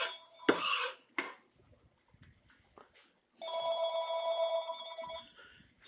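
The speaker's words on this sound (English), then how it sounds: "So I got a phone call" Indoor telephone ringing in a home kitchen during pasta cooking, a bright electronic ring burst lasting about two seconds after a few clinks and knocks of kitchenware, fairly clear and close, with no talking.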